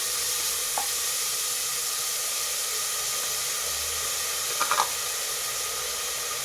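A thick chopped onion fries in a pan with a steady, close, continuous sizzle, broken only by a couple of faint clinks, with no voices.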